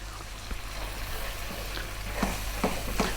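Spice powders, including garam masala, Kashmiri chili powder and coriander, stirred and fried in a pan for lamb curry, a soft continuous sizzle with a few sharper spoon scrapes near the end.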